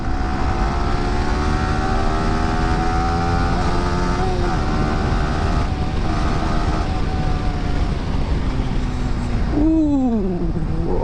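A Yamaha R15 V4 motorcycle revs hard in first gear on an open road, its loud engine note rising steadily in pitch, then dropping sharply near the end as the rider shifts or backs off.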